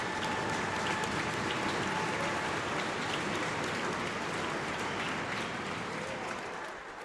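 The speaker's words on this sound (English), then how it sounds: "let's give a great round of applause to Mr." An audience at a high school senior night basketball game applauds steadily for a retiring honoree, a dense, even wash of clapping that tapers slightly at the end.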